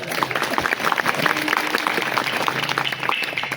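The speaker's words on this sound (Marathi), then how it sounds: "जोरात वाजवायची टाळी." A kirtan audience claps hard together, a dense, loud stream of hand claps filling the space without a break.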